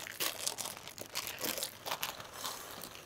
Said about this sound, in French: Tu peux ouvrir le sachet